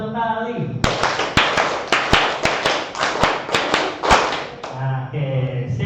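A group claps a rhythmic pattern together during a teachers' in-house training session at a special-needs school in Jakarta: a series of sharp, loud, evenly spaced claps, then a short pause, with faint voices before and after.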